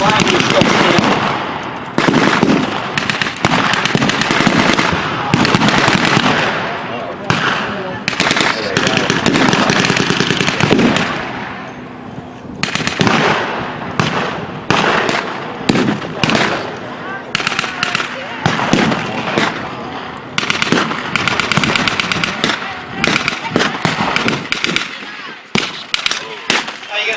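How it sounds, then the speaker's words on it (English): WWI reenactment battlefield with counter-battery artillery and gunfire, continuous loud booms and crackling volleys layered densely for the whole stretch, thinning into scattered sharp reports near the end. "That's counter battery fire from the Germans trying to hit their lines"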